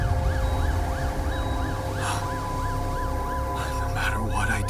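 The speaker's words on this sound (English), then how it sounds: "Ambulance." An ambulance siren in the video game The Alters wails in a steady, rising and falling cycle at moderate distance, running throughout over low background rumble, with a few brief clatters near the end.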